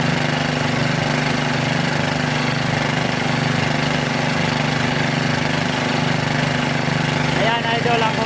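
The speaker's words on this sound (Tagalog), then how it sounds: "Ayan idol ang compressor namin." Engine-driven air compressor used for underwater diving work, running with a steady loud mechanical drone and low pulsing throb throughout, close by, with a voice talking over it.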